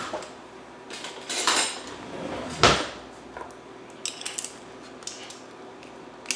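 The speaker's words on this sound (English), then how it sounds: "And now I'm getting a spoon, the big spoon" A big spoon pulled out of a drawer while cooking Jamaican-style oxtail, with loud metallic clatter of cutlery and dishes near the microphone, one sharp rattling jangle, then scattered lighter clinks.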